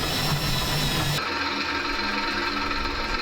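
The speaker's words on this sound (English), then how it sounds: "I'm gonna drill these holes out a little bit." Power drill boring out mounting holes in a fuel tank relocation mount on an Isuzu Amigo, a steady close whine that drops in pitch and load about a second in, then runs on alone.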